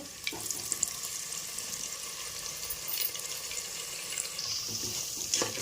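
Chicken biryani ingredients, including green chilies, fry in a pan with a steady, close sizzle and crackle, broken by occasional clinks and scrapes of stirring, with no talking.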